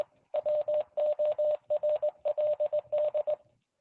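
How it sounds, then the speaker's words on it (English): A Boondock Echo device plays Morse code from a connected radio: a steady single-pitch tone keyed in rapid short beeps and grouped bursts, loud and clear, ending abruptly. "So you can use the device to send Morse code with a connected radio"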